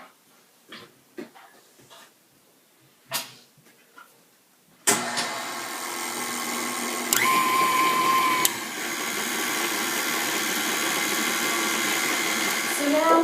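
Flour, salt and baking soda for pumpkin muffins are mixed by machine, opening with a few soft knocks and taps, then a steady loud whirring drone running continuously for about eight seconds with a brief shift in pitch midway.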